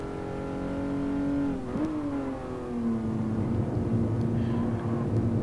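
A racing car engine in a video game at the Nürburgring, droning steadily, then shifting in pitch as the car changes gear and revs on, heard up close from the cockpit.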